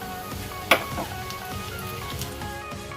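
Curry leaves, cumin and sesame seeds crackle in hot oil in a pan for farali handvo, giving a steady soft sizzle with one sharp pop early on.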